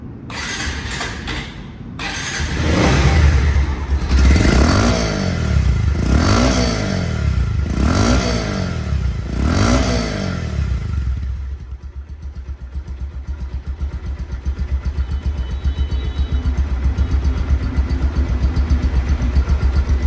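A used 2023/24 Bajaj Pulsar single-disc motorcycle engine revs hard in five loud, rhythmic pulses up close, then settles into a steady, throbbing idle.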